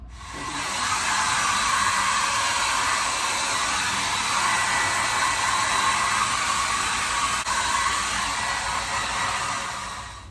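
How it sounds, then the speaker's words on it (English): A hair dryer blowing on hair, a steady loud whooshing roar that starts abruptly and runs unbroken for about ten seconds before cutting off, close by and with no talking. "we're gonna blow dry it a little bit"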